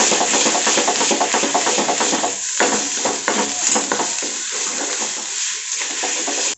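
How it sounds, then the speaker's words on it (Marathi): Loud, continuous frying and scraping as a spoon mixes turmeric, red chili powder, salt and crushed green chili paste in a hot pan for horse gram bhaji, with steady sizzle and stirring strokes throughout. "लाल तिखट हिरव्या मिरचीचा ठेचा हे सर्व आता आपण मिक्स करून घेऊया"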